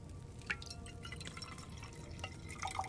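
Liquid poured during alchemy brewing in Kingdom Come: Deliverance 2, heard as faint drips and small splashy trickles against a low background hum, quiet and sparse.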